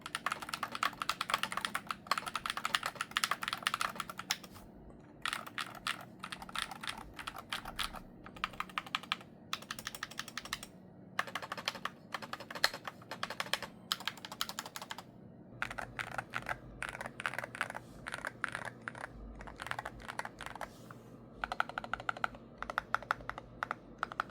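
Steady typing on an Akko TAC75 HE mechanical gaming keyboard, clicky keystrokes in fast bursts with brief pauses, close and clear, no voices.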